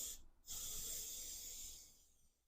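Two short hissing bursts of spray adhesive onto a wreath star, a brief blast, a quick pause, then a longer steady spray that slowly fades, heard close and quiet.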